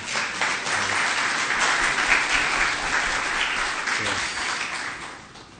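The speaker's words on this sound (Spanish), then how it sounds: "Fuerte el aplauso para nuestro distinguido ponente" An audience at a university electoral-law conference session claps for a featured speaker, with full, continuous applause from a packed room that swells briefly in the middle and then dies away.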